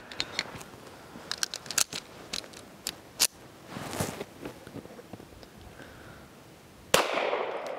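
Sharp, fairly faint reports from a Kimber Micro Raptor .380 pistol loaded with Winchester rounds, fired as a string of irregularly spaced cracks followed by rustling.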